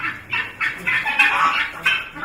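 Broiler chickens on a poultry farm give off a steady, dense chorus of close clucking and squawking calls, many birds overlapping continuously.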